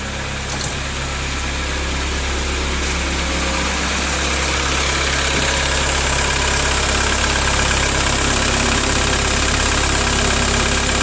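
A 1.9 TDI diesel in a VW Passat B3 idling roughly and steadily up close, a constant clattering knock with a loud, unbroken drone and no talking.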